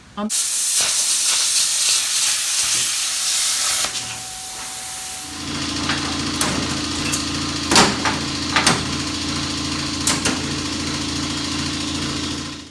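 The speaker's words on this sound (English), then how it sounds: "I've pulled off the sheet metal that was on top of this and burnt off that bolt." A cutting torch hisses loudly and steadily as it burns off a rusted bolt on a bush hog rotary cutter, then gives way to a lower engine-like hum punctuated by sharp metallic pops and clanks.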